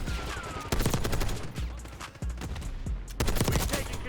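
XMG rifle fire in Black Ops 6 comes as sharp, loud automatic bursts with short pauses between them, under a steady game background.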